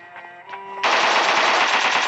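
Rapid machine-gun fire in the video game PUBG erupts loudly after a short, quieter stretch with faint tonal game sounds, then continues as a dense, sustained burst of automatic gunfire to the end.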